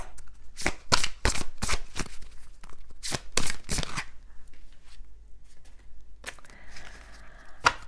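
Oracle cards being shuffled by hand, a run of quick riffling bursts in close succession, then a pause and softer sliding and flicking as a card is drawn, recorded close and clear.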